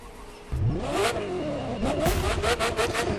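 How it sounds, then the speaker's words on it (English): Ferrari F40 engine in the racing game The Crew 2 kicks in and revs hard, pitch climbing and falling through repeated throttle blips, loud and close with a rough, raspy tone. "this is the best sounding car in the game, and that is the Ferrari F40"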